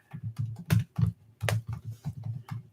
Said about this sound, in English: Cal's typing away furiously there.